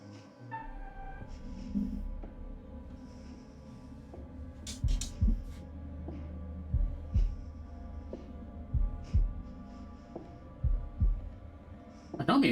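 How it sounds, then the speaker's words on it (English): A faint, muffled heartbeat from the video game The Devil In Me thumps repeatedly in a steady rhythm under a low hum, quiet and close. "Here's one of our first heartbeat."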